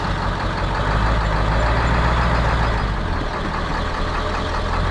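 Oliver 1550 tractor pulling a disk across a field, a loud steady diesel engine drone with low rumble and wind buffeting, constant throughout with no talking.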